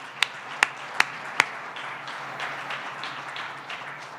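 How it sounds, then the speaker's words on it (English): Audience applause for sponsors at the 2019 Visionary Leadership Awards: four sharp, evenly spaced claps up front, then a soft, scattered patter of clapping that lingers quietly in a room. "So round of applause for the sponsors."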